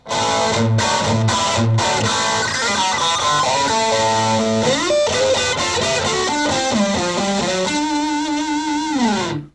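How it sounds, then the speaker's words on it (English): A heavily distorted electric guitar plays loud chords and sliding riffs through a Fender amplifier's push-button distortion, gritty and sustained, with a few choppy stabs at the start. "This one happens to have a simple push button that I push it in. There's my distortion."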